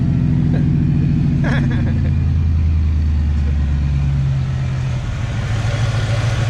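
A long-frozen Ford Mustang Foxbody engine runs close by, its low rumble rising and falling as the throttle is blipped, steady and loud for several seconds.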